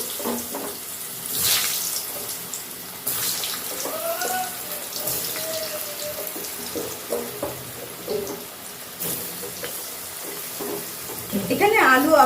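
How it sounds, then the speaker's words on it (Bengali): Potatoes drop into hot oil left from frying bata fish and sizzle moderately, with a spatula stirring and scraping. Intermittent clinks and bursts of hiss rise toward the end. "ছেড়ে দিচ্ছি এর মধ্যে কয়েকটা আলু।"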